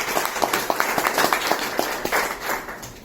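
Applause from a real estate sales workshop audience in Indore: a steady patter of claps from a modest group, fairly close and with no talk over it.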